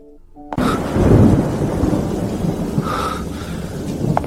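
Steady heavy rain at night with rolling thunder, a loud rumbling crash near the start and another distant rumble later, continuous and close.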